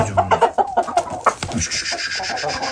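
Shamo game hens and a rooster squabble at close range, a burst of loud clucks and squawks followed by quieter agitated clucking.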